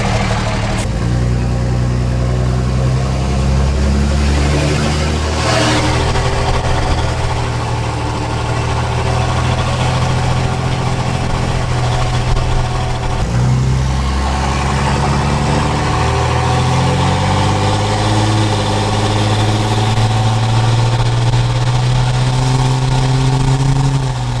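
A 5.9 Cummins diesel, fresh from an injector install, idles steadily and close by with a low, even rumble. Voices talk over it throughout.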